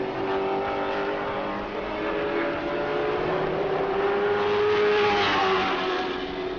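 A Pro Late Model race car at New Smyrna comes off turn 4 during qualifying, its engine a loud sustained drone with a steady pitch that rises slightly as it runs toward the line.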